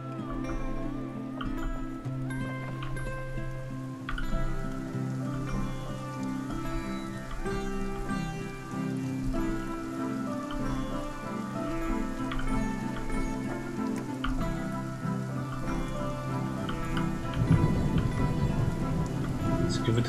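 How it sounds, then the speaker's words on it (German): Thunderstorm rain in the video game Spiritfarer patters softly and steadily beneath gentle, sustained in-game music throughout. "Jetzt gewittert es auch noch."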